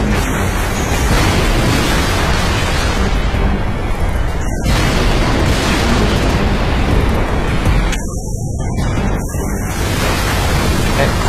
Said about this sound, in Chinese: 先用重炮把这些干掉